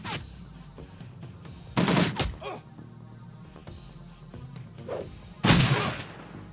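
SMG gunfire in the Shadowrun Returns video game, two loud rattling bursts of automatic fire separated by quieter game sounds.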